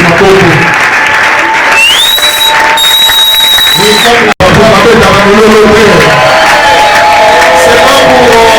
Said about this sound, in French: Maintenant, on acclame pour vous.